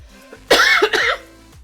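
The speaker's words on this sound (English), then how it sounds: "my cough has just come back all of a sudden today" A single harsh cough, two quick bursts close to the microphone, then quiet.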